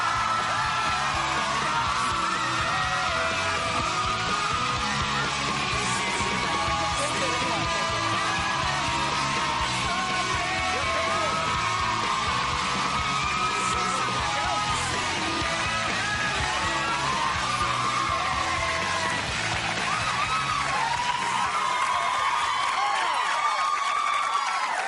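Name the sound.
studio audience screaming for Zac Efron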